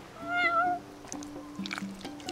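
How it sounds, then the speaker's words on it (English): A cat in the video game Final Fantasy XV meows once, a short rising-falling cry near the start, followed by soft eating and lapping noises over faint background music. "You're one spoiled cat."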